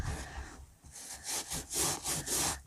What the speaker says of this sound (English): so this time I'm scrubbing all of the